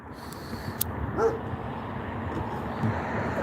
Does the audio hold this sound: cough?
no